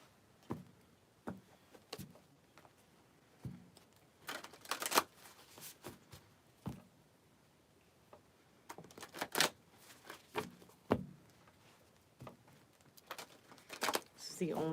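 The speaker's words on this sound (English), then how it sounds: "This is the only way to shuffle a deck this big." Close, crisp riffling and snapping of a very large deck of cards shuffled in pieces, in irregular bursts, with soft pauses and handling noises between shuffles.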